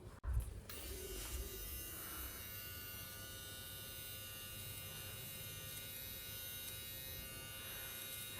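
An electric nose and ear trimmer runs with a steady, quiet, continuous buzz at close range after a brief click at the start, with no talking.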